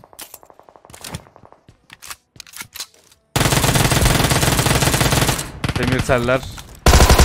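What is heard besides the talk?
Uzi submachine gun firing in a video game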